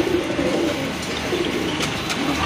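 A pair of red Bombay pigeons at a pigeon farm give soft, low, repeated coos close by, with a faint chirp here and there and no speech.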